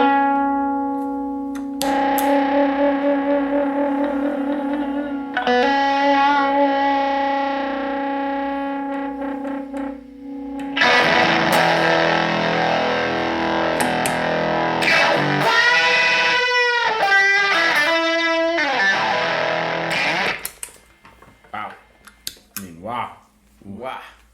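An electric guitar runs through a germanium transistor fuzz pedal, with heavily distorted sustained notes and chords that swell and ring, then choppy bent phrases, loud and close before fading to scattered picking.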